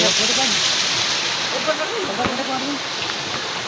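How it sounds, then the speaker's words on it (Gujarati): Strongly flowing water rushes in a steady, loud roar at an outdoor spot during an outing with friends, with faint voices underneath. "પાણી પણ ચાલુ છે જોરદાર"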